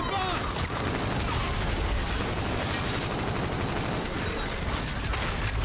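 Dense, continuous gunfire and explosions from the sci-fi shooter Call of Duty: Infinite Warfare, loud and sustained throughout with bursts of automatic fire and booms, a voice talking over the battle.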